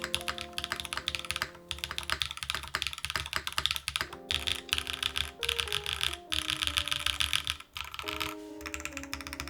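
Typing on a custom-built mechanical keyboard, a busy, continuous run of crisp, close key clacks with a few heavier thocks mixed in, over a steady tonal music bed.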